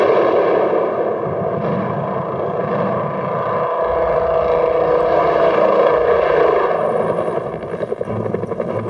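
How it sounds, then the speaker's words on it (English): A Bell UH-1 Huey helicopter drones steadily for several seconds, its engine and rotor noise dense and loud, shifting in tone partway through without ever dropping away. "The distinctive sound of the rotor blades"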